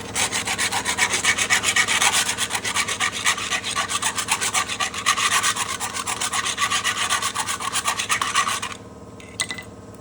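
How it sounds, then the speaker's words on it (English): A round file rasps against a tight hood hinge bushing from a G Force Fab hood hinge bolt and bushing kit, in close, steady back-and-forth strokes for about nine seconds. The filing then stops, followed by a single light knock. "this bushing's a little bit tight. Take a round file."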